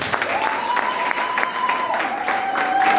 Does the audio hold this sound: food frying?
no